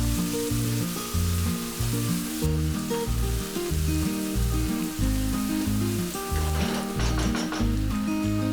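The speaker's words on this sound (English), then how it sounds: "and fry it for a minute." Chopped onion, three garlic cloves and an inch of chopped ginger sizzle steadily in a pan, with a continuous close frying hiss under a music bed and no talk.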